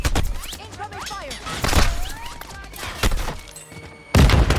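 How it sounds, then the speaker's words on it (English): Incoming gunfire in a team video game, bursts of shots and impacts with sharp cracks and booms, dense and loud, ending in a heavy close blast, with game voices and effects mixed in. "Incoming fire."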